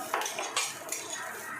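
A metal utensil scrapes and clinks against a pan while egg chow mein with cabbage, beans and carrots is stirred, producing several quick, fairly quiet knocks and scrapes close by with no talking.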